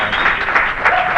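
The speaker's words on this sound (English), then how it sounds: "Terrific shot, an appreciative crowd" Appreciative crowd applauding after a pool trick shot at a trickshot exhibition, steady dense clapping throughout with a couple of swells, close and loud.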